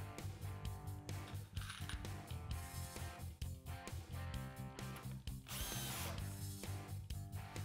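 Power drill driving screws into wood boards held by two clamps, with repeated whirring bursts of the motor starting and stopping in a steady rhythm, loud and close.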